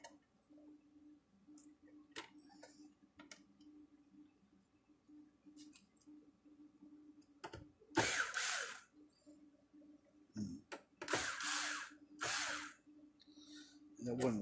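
A power drill drives screws into a board during an electric fence charger repair. A few short, sharp whirring bursts stand out against a quiet workshop background.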